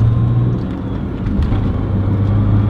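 A 1995 Porsche 911 993 C4 engine hums steadily and loudly from inside the cabin as the car drives through a turn, a low, even drone with no talk over it.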